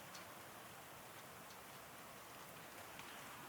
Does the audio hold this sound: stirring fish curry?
no